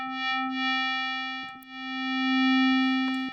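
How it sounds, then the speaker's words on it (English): Pure sine wave tone from a Native Instruments FM8 synthesizer, a clean sustained pitch with a faint harmonic series, briefly interrupted near the middle before swelling back louder. "So D's just the regular sine wave."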